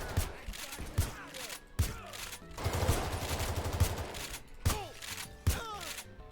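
Gunfire in the heist shooter Payday 3, several sharp heavy shots spaced apart with bursts of rapid fire in between, fairly close and punchy.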